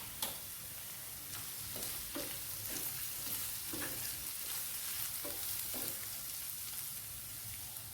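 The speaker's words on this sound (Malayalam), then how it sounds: "സവാള നന്നായിട്ട് വഴന്നു വന്നിട്ടുണ്ട്." Sliced onions sautéing in a pan with ground fennel, a quiet steady hiss broken by soft, regularly spaced stirring scrapes, close by and without speech.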